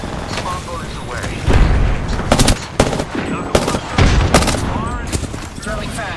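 Rapid bursts of gunfire and smart-bullet shots in a video game firefight, loud and close with booming hits and mechanical clicks, mixed with in-game voices.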